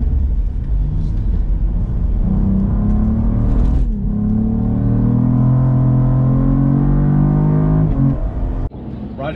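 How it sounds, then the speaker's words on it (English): A Cadillac Blackwing accelerates hard, its engine note climbing steadily in pitch through the gears, loud and close from inside the car, with abrupt breaks at each shift where a short pop cuts the sound. "Hear that pop? Ooh, each shift there's a good pop."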